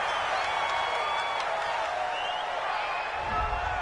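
A stadium crowd in an American football video game murmurs and boos after a penalty flag on third down, a steady broad roar of voices at moderate distance with no talk over it.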